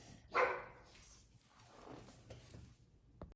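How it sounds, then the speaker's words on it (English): A dog barks once to be let in, a single loud sharp bark indoors, followed by faint softer sounds and a quiet thump. "I have a dog and she just barked to get in"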